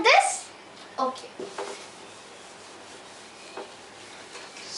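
Writing being rubbed off a board to erase it, a few short scrubbing strokes near the start, then quieter faint rubbing, with a voice speaking faintly in the background.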